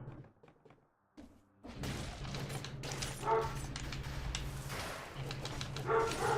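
A dog barks and yips in the background alongside thuds and game sounds from Dead Cells, with fairly loud, repeated barks after a brief quiet opening.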